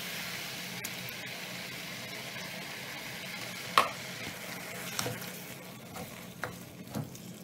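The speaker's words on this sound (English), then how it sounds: "Time to add the chopped tomatoes." Chopped tomatoes go into a frying pan for a vegan student meal and are stirred, giving a steady soft sizzle with a few clear scrapes and clinks of the utensil against the pan, no voices.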